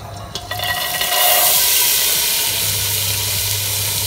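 Chana dal hits hot ghee in a pan with a loud, steady sizzling hiss that swells after a brief clatter and holds right up to the end, close up with no voices.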